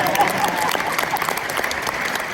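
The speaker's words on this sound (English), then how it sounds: "Now you're supposed to clap because that was good." Audience applause at a university world-affairs conference talk fills the room, a steady dense clapping that runs throughout at moderate loudness with faint voices mixed in.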